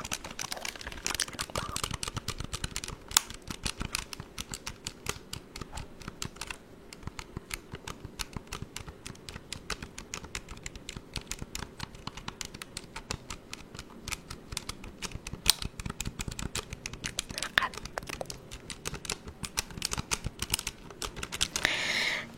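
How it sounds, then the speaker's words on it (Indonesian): Quick, dense tapping of plastic buttons on a small, basic calculator keypad, close and crisp in a steady irregular stream, with a faint whisper in a quiet room. "itu keyboard, tapi ini keyboard sederhana banget, amat sangat sederhana sekali, yang mana adalah hanya kalkulator"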